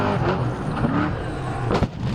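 A trophy truck slams down hard on landing off-road, with engine and rough rolling noise throughout and a sharp, heavy impact thump near the end, no talk.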